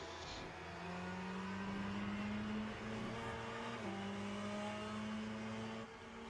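Race car engines at Sebring in Le Mans Ultimate, a steady droning engine note holding and shifting pitch through gear changes, with other cars pulling away, fairly quiet and continuous with no talk.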